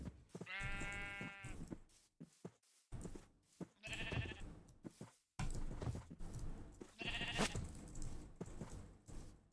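Sheep in Minecraft bleat in several short, wavering calls spread across the scene, mixed with footsteps and scuffling game noises, no talking.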